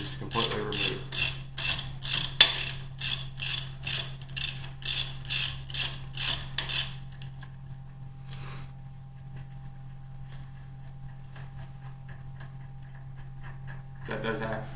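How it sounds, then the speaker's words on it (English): A 3/8 Allen screw is ratcheted out of the hand throw lever on an M-23 switch machine, with a rapid run of even clicks for several seconds, then quiet and a few more clicks at the end. "It'll be a 3/8 Allen screw, and you just completely remove."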